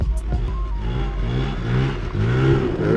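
A Zuma 50F scooter fitted with a swapped two-stroke engine runs close by, its motor buzzing and rising in pitch with repeated throttle blips.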